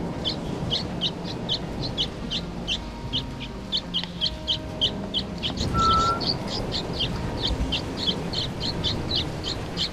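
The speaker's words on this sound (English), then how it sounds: "It is wonderful to take care of the young birds and watch them grow day by day." Young birds kept in a small wooden house chirp in a rapid, evenly spaced series of short, high peeps that continue steadily for ten seconds over a dense background rumble.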